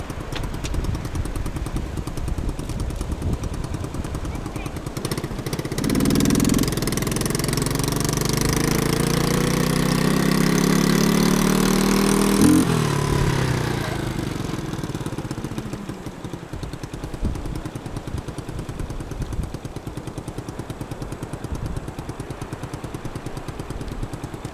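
A Shineray Jet 50cc motorcycle's small engine runs nearby, a buzzy idle that rises into a louder revving stretch for several seconds, then settles back to a steady idle.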